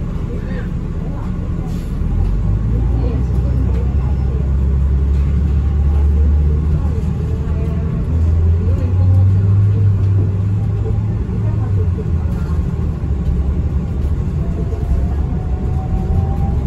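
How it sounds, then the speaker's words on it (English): Honolulu TheBus city bus on Route 2 pulling away, a steady low engine rumble building and holding close by, with a faint murmur of passengers in the background. "The bus is departing."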